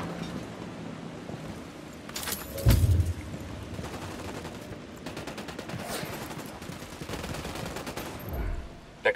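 Video game gunfire in Ghost Recon Wildlands: loud bursts of automatic rifle fire, with a heavy close shot or explosion thump early on and rapid rattling volleys that return in clusters over a steady background rumble.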